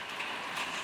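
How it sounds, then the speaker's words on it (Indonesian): Steady rain falls, a soft even hiss of drops on surfaces, faint and brief with no voices. "Hujan lagi."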